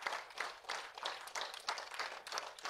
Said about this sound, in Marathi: त्यांच्याकरता एकदा भरपूर टाळ्या